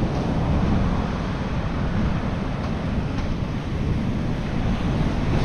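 Sea waves wash onto the shore in a steady, loud roar of broadband surf, mixed with wind buffeting the microphone, with no voices heard.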